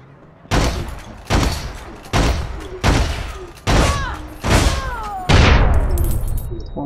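Seven sharp gunshots from the online shooter APB Reloaded ring out at a steady pace, each a loud, close report with a ringing tail, while some faint whistling tones trail behind the later shots.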